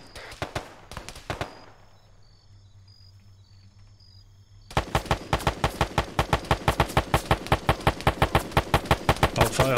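Gunfire in the Arma 3 military game: a few quick shots open, then a pause with a low hum, and then a long, loud, rapid burst of automatic fire with evenly spaced cracks runs to the end.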